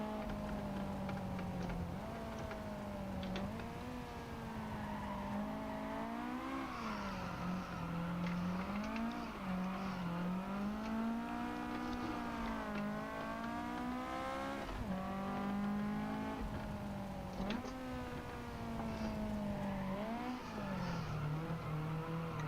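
Race car engine from Gran Turismo Sport, loud and steady throughout, its pitch rising and falling repeatedly with gear changes and throttle, with occasional tire squeal and no talk.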